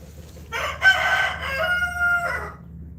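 Roosters crow loudly nearby, one long drawn-out cock-a-doodle-doo call with overlapping tones, alone over a quiet farmyard background.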